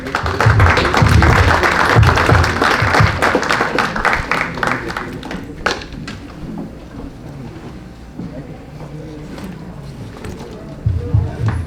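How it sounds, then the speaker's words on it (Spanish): Audience applause welcoming a speaker at a quality conference, a dense burst of clapping that fades into scattered claps and murmuring, with voices talking through the later part. "La recibimos con un aplauso."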